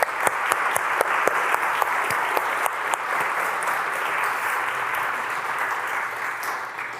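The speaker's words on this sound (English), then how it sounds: "Can we have a round of applause for our sponsors?" Audience applause at a London tech summit, a dense steady clapping from a sizable crowd with a few sharp individual claps standing out, holding strong for most of the stretch before tapering slightly near the end.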